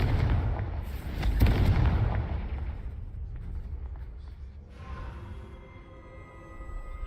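A Confringo fire spell in the game Hogwarts Legacy lands with a single loud, deep boom, followed by a rumbling, crackling decay that fades over several seconds.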